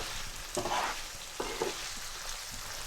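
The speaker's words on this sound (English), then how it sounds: "And give it a little mix." Potatoes fry for Punjabi achari aloo under a constant soft sizzle, with two or three brief scraping stirs of a utensil in the pan, close but fairly quiet, and no talking.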